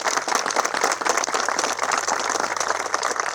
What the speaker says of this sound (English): So if we could please give her a round of applause.